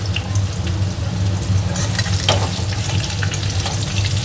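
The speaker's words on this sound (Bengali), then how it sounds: "এর মধ্যেই আলু ভাজবো ভেজে আর তুলবো না" Potatoes fry loudly in a pan, a dense continuous sizzle with stirring scrapes and bursts of crackle throughout, close up and with no speech.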